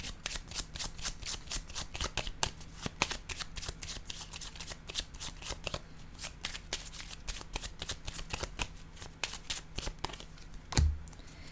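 Rapid riffle shuffling of a deck of playing cards, a dense run of crisp repeated clicks and flutters close by, steady for the whole stretch with one louder knock near the end.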